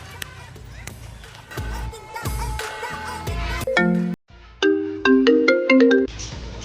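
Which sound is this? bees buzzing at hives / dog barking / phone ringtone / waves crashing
phone ringtone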